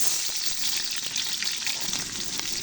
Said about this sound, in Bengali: তেলটা খুব ভালো করে গরম হয়ে গেছে এবারে দিয়ে দেবো পেঁয়াজ কুচি